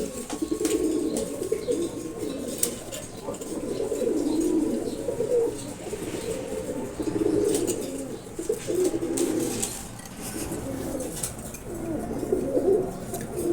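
Pigeons, home-bred males, coo steadily and close by, a low throaty murmur that rolls on in overlapping waves with no pauses.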